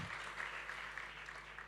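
A church congregation claps during a Sunday service, a faint, distant patter of applause lasting under two seconds.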